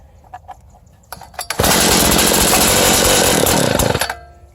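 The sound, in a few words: Craftsman cultivator engine starting and running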